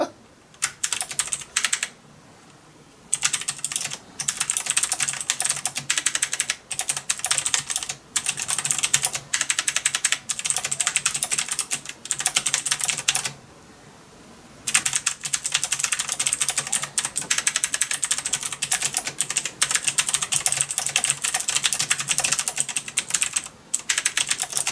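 Fast, continuous typing on a mechanical keyboard fitted with clicky blue switches, dense crisp key clicks in steady bursts close to the mic, broken by a few short pauses, with no talking.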